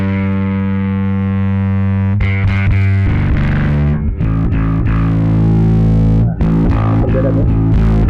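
Bass guitar played through a Joyo Monomyth bass preamp with its distortion engaged, loud, thick and buzzing, with sustained chords and riffed notes changing over about eight seconds; no talking.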